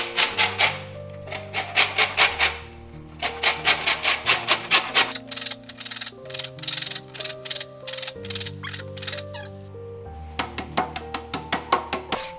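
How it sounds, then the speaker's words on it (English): A lemon is rubbed against a zester in quick, rhythmic rasping strokes, repeated in close bursts over steady background music. "What I will do, just take the zest out of the lemon."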